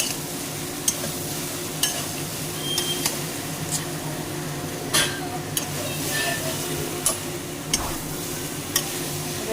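Potatoes stirred into soya chunks frying in a pan: a constant low sizzle with regular sharp clacks of a spatula against the pan, close and clear.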